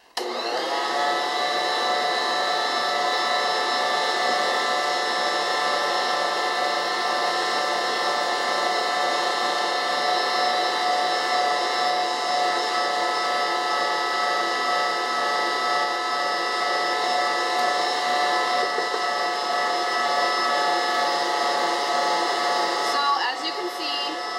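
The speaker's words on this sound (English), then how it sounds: "So I'm going to turn the mixer back on and add another half cup." A stand mixer kneads whole wheat sandwich bread dough, its motor giving a steady, close electric whir that holds evenly for over twenty seconds with no voice.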